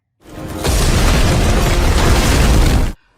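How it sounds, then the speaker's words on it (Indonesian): A massive ice vortex blasts apart in an animated Chinese fantasy battle, a loud roaring explosion that swells quickly and then rumbles on as a sustained blast before cutting off abruptly. "Setelah es meledak"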